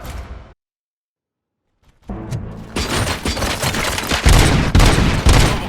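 Gunfire from a scene in RoboCop: a short burst, then a brief silence, then a sustained, loud barrage of rapid shots and impacts with crashing noise that builds toward the end.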